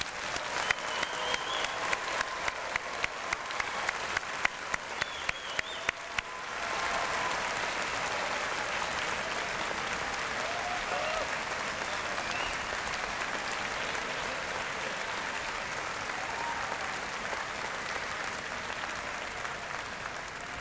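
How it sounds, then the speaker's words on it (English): An audience applauds graduates at a university convocation ceremony, starting with a few scattered claps and then swelling into sustained, even applause from a large crowd that continues steadily. "our newest class of graduates deserve a big round of applause."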